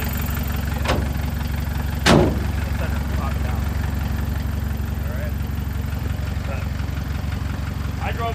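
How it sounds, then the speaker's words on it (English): An old Mercedes hood slams shut twice, a lighter thud followed by a louder, sharper bang, both close by over a steady low rumble of an idling engine and background noise. "when you shut the hood, because it's an old Mercedes hood, you gotta shut it evenly"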